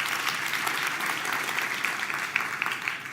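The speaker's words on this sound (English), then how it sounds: "Please, a warm round of applause." Sustained applause from an audience at a launch event for an academy's upcoming tenth anniversary, dense and steady for the whole stretch with no voices over it.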